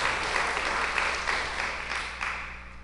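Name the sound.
audience applause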